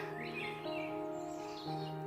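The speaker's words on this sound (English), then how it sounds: "Are you hearing those nice birds on the background" Birds twitter and chirp faintly in the background on a nature walk outdoors, thin calls over a steady low hum without speech.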